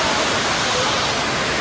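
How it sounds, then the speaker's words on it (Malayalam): Heavy rain and water falling outdoors in wind, a loud unbroken roaring hiss that fills the whole moment, steady and close. "എവിടെ നിന്നൊക്കെ വെള്ളം വീഴുന്നുണ്ട്."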